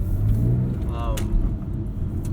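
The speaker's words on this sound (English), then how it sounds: "this has a sport exhaust" Low engine rumble from a 2009 Porsche 911 Carrera 4S with sport exhaust fills a brief moment beneath people talking close by inside the car.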